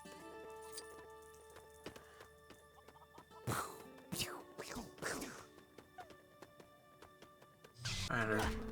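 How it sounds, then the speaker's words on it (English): Chickens cluck and squawk in a few scattered bursts in the LEGO DC Super-Villains video game, heard over game music and effects, with a louder flurry at the end. "One of these chickens are going down. They're just running away."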